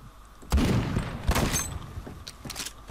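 Shots from a BFG 50 sniper rifle in Roblox Phantom Forces crack out as a few loud, sharp reports, with fainter distant gunfire between them in the game's battle.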